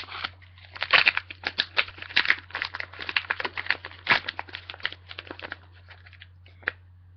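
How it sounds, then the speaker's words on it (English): Scissors snipping through soft feathers close up: a rapid run of crisp, crinkly cuts and rustles, bunched and irregular, tapering to a few scattered snips at the end, with no talking. "Probably cut the feathers now as well"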